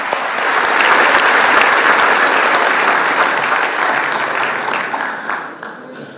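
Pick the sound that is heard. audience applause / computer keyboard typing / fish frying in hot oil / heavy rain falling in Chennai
audience applause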